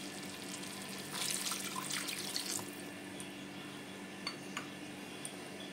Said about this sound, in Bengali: এবার আমি এর মধ্যে জল অ্যাড করে দেব। তো চলো জলটা অ্যাড করে দিই।